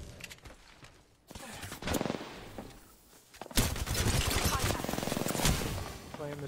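Video game gunfire crackles in rapid, dense bursts, with a quieter stretch before a sustained loud volley of shots, while players talk excitedly over it.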